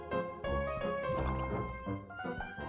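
Liquid pours into a container in a children's cartoon, a continuous gurgling, trickling fill with small drips, moderately quiet over a faint musical background.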